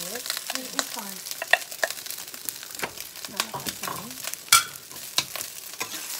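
Fried rice is stir-fried in a pan, with a close sizzle broken by repeated scraping and stirring clatter and occasional louder knocks, while brief voices speak in the background.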